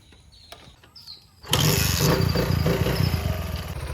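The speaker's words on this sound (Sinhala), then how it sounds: "අපි බලමු දැන් බයික් එක ස්ටාර්ට් වෙනවද කියලා" A motorcycle that has just had its spark plug cleaned catches after a few faint clicks and bumps, then roars loudly to life close by and settles into a steady, throbbing idle.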